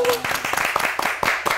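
Audience applause at a Vietnamese stage show, scattered claps in a loose rhythm from a nearby crowd while a voice talks over them.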